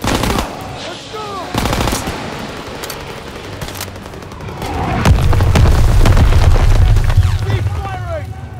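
Machine gun fire in the World War 2 Stronghold combat game, loud rapid bursts and single cracks alongside booming explosions and a heavy rumble, with voices shouting over the battle.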